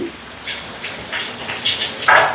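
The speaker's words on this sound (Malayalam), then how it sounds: "നല്ല മഴ എന്ന് പറഞ്ഞാൽ പെരുമഴയാണ്" Heavy rain falls outside a home kitchen where pork and plantain are being prepared, a steady wash of noise with a few louder splashy bursts toward the end and no talking.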